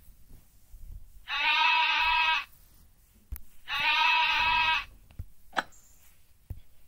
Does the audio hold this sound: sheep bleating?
yes